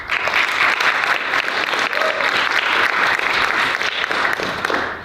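A theatre audience at a Shakespeare Abridged performance claps loudly and steadily, a dense, sustained wash of applause that holds for several seconds before tapering off at the end.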